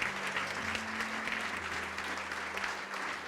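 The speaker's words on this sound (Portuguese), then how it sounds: "E vamos aplaudir ao Senhor Jesus por cada vida que está chegando." A church congregation applauds. Sustained, dense clapping continues evenly throughout, filling the hall with a steady wash of sound and no distinct voices on top.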